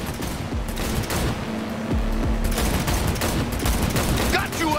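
An inaccurate gun firing in Cyberpunk 2077, loud sustained bursts of rapid shots with a mechanical rattle and a short pause near two seconds, under game sounds and a talking player.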